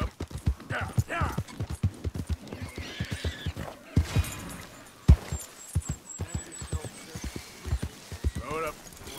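A horse's hooves clip-clop in a steady gait in Red Dead Redemption 2, close and distinct, with a whinny and a voice talking over parts of it.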